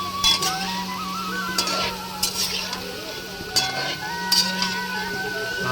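Potatoes frying in oil in a wok are stirred, giving a steady sizzle with scattered scraping and clinking of a utensil against the pan, close and moderately loud.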